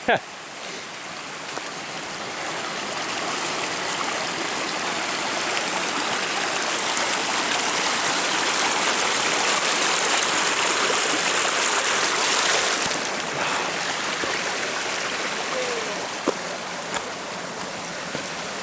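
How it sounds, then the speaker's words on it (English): A forest stream flows in a steady, close rushing wash of water that swells slightly midway and then eases, with no voices over it. "Very nice stream here."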